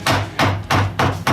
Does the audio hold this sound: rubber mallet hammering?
yes